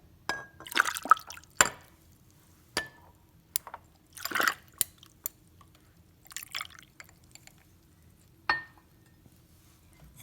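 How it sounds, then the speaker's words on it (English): Milk chai is poured over ice in a glass, giving scattered drips, splashes and clinks of ice against glass, close and sparse with quiet gaps between. "Now I'm going to pour the chai."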